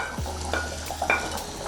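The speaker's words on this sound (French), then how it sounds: "Je vais maintenant mettre les légumes que j'ai coupés. Donc, je mets l'oignon." Chopped onion drops into a hot cooking pot for smoked fish Moambe, giving a brief soft sizzle and a quick stir, close and quiet, with no voices.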